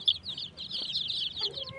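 A hen clucking among newly hatched one-day-old chicks, rapid bright clucks and chick peeps running steadily close by, with no talk.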